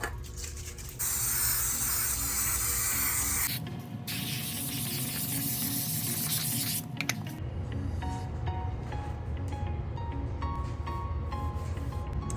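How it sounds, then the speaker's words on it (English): An aerosol can of spray adhesive sprays onto the back of a fabric panel in long, loud hissing bursts, the blasts continuing for several seconds before a quieter stretch of faint rustling. "So I'll be spraying the back of this fabric panel"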